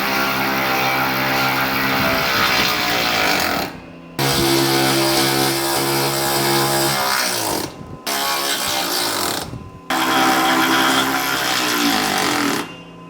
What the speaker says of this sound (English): from the inside with a 9/16 socket or the Milwaukee impact